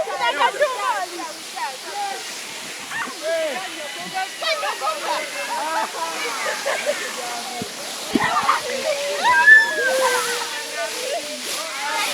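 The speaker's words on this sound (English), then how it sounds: "We are now located in the first cave of our destination, dominated with a waterfall." A waterfall pours steadily inside a cave near Fort Portal, a continuous near roar with sloshing and splashes, while voices talk over it throughout.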